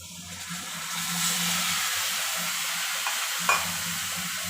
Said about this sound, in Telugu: ఇప్పుడు మనము చింతపండు రసం తీసి పెట్టుకున్నాం కదా, దీంట్లో వేసుకున్నాం.